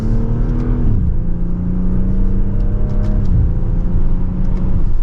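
A 2025 BMW X4 M40i SUV pulls hard in sport mode in second gear, its engine droning loudly and rising in pitch, with quick smooth gear changes audible as sudden pitch drops, no talking.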